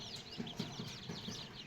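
A hen clucks in short repeated bursts beside a lame chick in a small backyard flock of native Gavran chickens, with faint chirps layered over steady low background noise.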